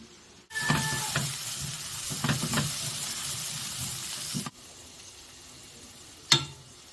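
Leftover rice frying with mixed vegetables, egg, chopped garlic and onion, a loud steady sizzle and hiss starting abruptly, with stirring scrapes, then dropping to a softer fry before a brief sharp clatter near the end.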